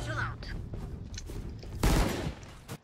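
Gunfire in a Valorant Spike Rush match, with a few quick shots early and a louder burst near the end over game noise.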